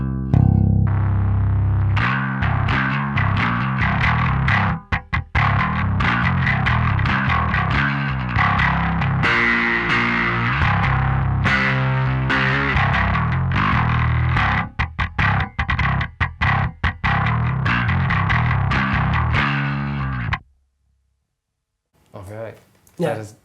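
Heavily distorted electric guitar played through a Dorje drive pedal on its alpha side, chugging palm-muted riffs and sustained chords with a thick, grunty tone, loud and continuous before cutting out, then a few final stabs.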